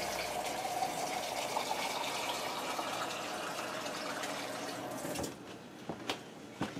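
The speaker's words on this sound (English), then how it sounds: "I'm going to fill that up with water." Tap water gushes steadily into an empty 28-ounce tomato can for several seconds, then shuts off, leaving a few drips and clinks.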